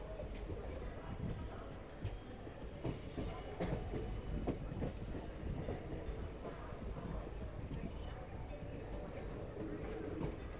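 A train pulls into Coimbatore Junction railway station with a steady, loud rolling rumble and faint rattling of the carriages over the full stretch, and voices are heard now and then beneath it.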